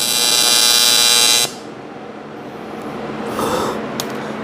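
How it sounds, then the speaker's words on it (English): A MIG welder laying a bead on the aluminum exhaust of a 1968 Dodge Charger, a loud steady buzzing crackle for about a second and a half, then stopping and leaving a quieter hum with faint clicks. "I think this welder's settings are off or something."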